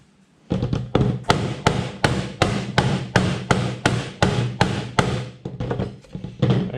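A Toyota 2H crank seal is tapped into its timing case with a hammer: about fifteen sharp, evenly spaced knocks in a steady rhythm, loud and close, with no talking.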